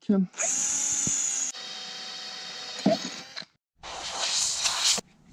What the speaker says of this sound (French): Les points ou percer avec le foret de 8. On perce la coque avec.